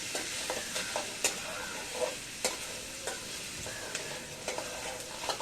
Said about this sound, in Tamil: நண்டு நல்லா கிளறி விட்டுட்ருக்காங்க.